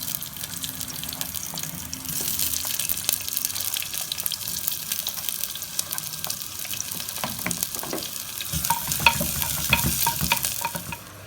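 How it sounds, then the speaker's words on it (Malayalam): Onions sauté in hot oil and ghee while being stirred for a kudukkachi biryani, making a continuous close sizzle with scraping stir sounds that swells toward the end, and no one speaks. "നമുക്ക് ഉള്ളി ആഡ് ചെയ്ത് കൊടുക്കാം."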